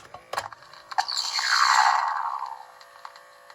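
A Kenner Star Wars Troop Transport toy's Stormtrooper blaster effect: a bright electronic zap sweeping downward over about a second and a half, framed by a few sharp clicks, with no voices.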